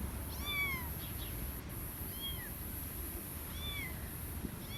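A young kitten cries in thin, high meows, about four short calls spaced out over a steady background hiss, fairly close but not loud.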